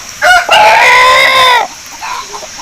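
An Aseel rooster crows once, loud and close, a short rising note followed by a long sustained call, then quiet background.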